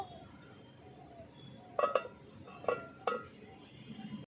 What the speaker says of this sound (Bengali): এই দেখো ঢাকনা দিয়ে দশ মিনিট ঢেকে দেব